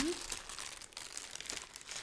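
Close, crisp crinkling of paper wrapping around a cosmetics package being handled, with short rustling bursts at low volume.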